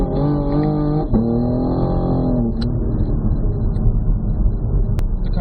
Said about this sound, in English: It's wet out, so I'm going to spin the tires in the wrong way.